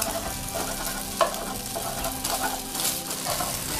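Eggs frying in hot oil in a pan, a steady close sizzle with light stirring and a brief utensil clink, no voices.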